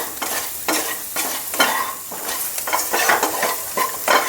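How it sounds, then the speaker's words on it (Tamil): Masala ingredients with salt sautéing in a pan, a close steady sizzle broken by rhythmic stirring strokes and scrapes roughly every half second, no voices. "ஸோ இது இப்படியே கொஞ்சம் வதங்கட்டும்"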